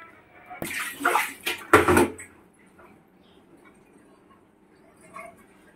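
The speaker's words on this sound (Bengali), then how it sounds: "একটু জল নিয়ে এই জলের মধ্যে এটাকে গুলতে হবে। তো আমি এটা গুলে নিই।" Shampoo stirred into a small amount of water, giving a couple of short splashy bursts of swirling liquid close up, then quiet with faint handling noise.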